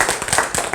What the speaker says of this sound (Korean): 박수 한번 쳐보세요, 여러분